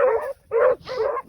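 Hunting dog puppies bark and yip in three or four short, loud, close bursts separated by brief gaps, with no voices.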